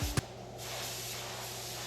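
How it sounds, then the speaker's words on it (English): SATA Jet 90 spray gun spraying automotive base coat at about 30 PSI, a steady, faint airy hiss running throughout after a brief knock at the start. "I'm spraying the base at right about 30 PSI"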